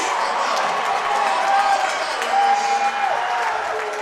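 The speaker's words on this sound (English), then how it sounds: "Panther fans have definitely been the more vocal crowd here tonight" Fans in a gym cheer and clap at a high school boys' basketball championship game, a dense steady roar of crowd noise throughout with a few whistles poking through.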